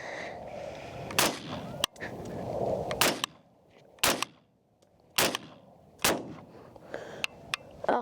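AR rifle shots crack out one at a time at a shooting range, about five or six sharp, loud reports spaced a second or so apart, each with a short ringing tail over steady background noise.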